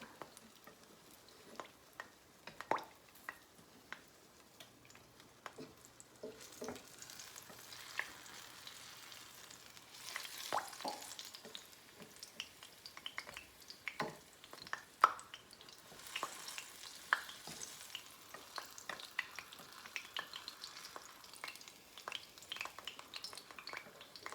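Garlic frying in a pan while cooking fried fish escoveitch, a soft, crackly sizzle with scattered pops and occasional clinks of a utensil against the pan, fairly quiet and close, continuing for over twenty seconds.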